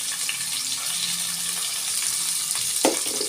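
Chopped onions and green chillies fry in a pan for vegetable fried rice with a steady sizzling hiss, then a single louder clatter near the end.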